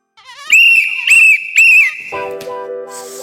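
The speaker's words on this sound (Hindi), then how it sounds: "देखा साहब, मेम साहब कितनी जोर से सीटी बजा रही है" A woman whistling loudly and shrilly indoors, three strong sustained blasts in a row followed by a lower, longer note, close and piercing with no talk.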